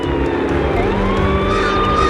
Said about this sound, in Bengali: সাইরেনটা বন্ধ করো।